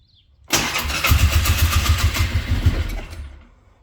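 Old 24-year-old quad ATV engine cranking and catching with choke applied, then running in a steady loud idle close by for a few seconds before fading slightly.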